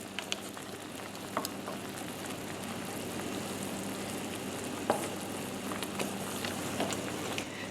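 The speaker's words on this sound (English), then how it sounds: "You'll have to keep stirring like this to make sure you get all the sugar and it doesn't stick to the side of the pan" A pan of pear jam with candied chestnuts bubbles and sizzles softly while being stirred, a steady faint crackle with occasional light scrapes and ticks from the spoon.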